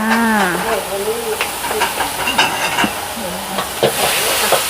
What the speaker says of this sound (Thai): ผัดไทยไฟแรง ถ้าไฟมันอ่อนมันก็ไม่อยากเส้นมันจะอืด